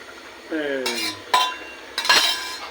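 A spoon stirs cornflour slowly into a pot in a home kitchen, with clinks and scrapes of metal against the pot in a few short bursts and a brief tonal sound early on.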